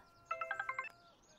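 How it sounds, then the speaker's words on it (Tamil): A telephone ringtone in a Tamil film scene, a quick run of about six bright electronic chime notes in a tight rhythm, clear and alone against a quiet background. "Sir phone. அட்டெண்ட் பண்ணுங்க."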